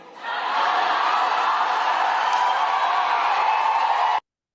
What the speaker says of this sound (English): Listen to the crowd roar and it sounds like a very female dominated crowd. This is women screaming.